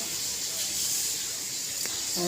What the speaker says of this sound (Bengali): দেখো ডালটা একটু ফুটে উঠেছে